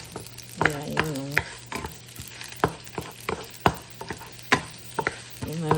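Garlic browning in a pan for kangkong adobo, with a low sizzle under repeated sharp clacks and scrapes of a utensil stirring against the pan.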